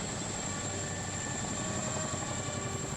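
Steady drone of a military helicopter in flight, a continuous rotor and engine roar that holds level and unbroken for the whole stretch, with no voices.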